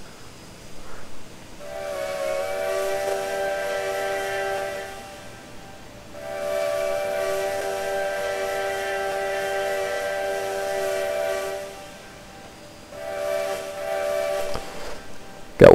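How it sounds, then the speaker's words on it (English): A Canadian Pacific 2-10-4 Selkirk steam locomotive in Trainz 2019 sounds its musical, chime-like steam whistle in three loud, sustained blasts: two long ones and a shorter final note, each separated by brief pauses. "Got one of those Canadian sing-song whistles."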